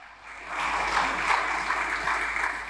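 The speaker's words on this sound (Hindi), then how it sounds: "एहो जिया तालियां खुदा वास्ते नहीं," A church congregation at a Hindi-Urdu sermon clapping together, building quickly into a sustained, dense round of applause that stays steady and fairly loud without voices on top.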